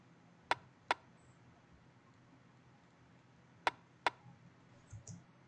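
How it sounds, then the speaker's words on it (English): A small percussive hit from a drum kit sounds as two quick sharp clicks in a pair, then after a gap another matching pair, dry and fairly faint against a quiet background. "So yeah, then we have this little perk that hits."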